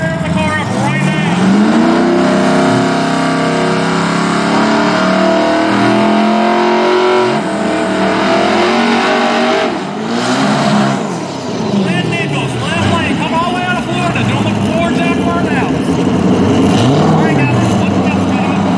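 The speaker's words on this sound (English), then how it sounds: "They are using a floor jack to do a burnout, guys." Drag race car at a small-tire back-of-the-track event at Darlington Dragway, rear jacked up on a floor jack, roaring through a loud sustained burnout with rising and falling engine revs, crowd chatter and talk mixed underneath.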